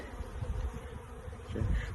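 Package honeybees buzz in a low, steady drone around a caged queen during hive installation, faint and close with slight swells in volume.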